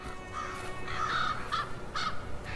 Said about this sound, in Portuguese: Os corvos encontram muitas carcaças durante o inverno, uma vez que nem todos os animais sobrevivem a esta estação dura.